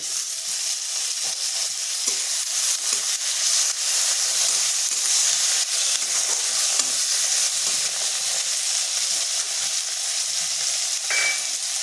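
Chopped tomato frying lightly in a pan, a loud continuous sizzle and hiss that runs steadily from start to finish with faint stirring scrapes and no talk.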